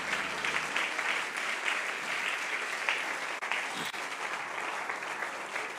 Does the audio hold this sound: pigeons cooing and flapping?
no